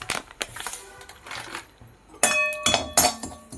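Poppy seeds dry-roasting in a pan while being stirred for a nutritious burfi, with light metallic clinks and scrapes at an irregular rhythm, close and fairly quiet.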